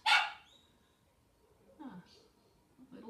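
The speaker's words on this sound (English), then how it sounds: "A little dog wants to come in." A small dog barks once sharply and close, then gives a couple of fainter yips and whines a moment later, indoors during a home Pilates session.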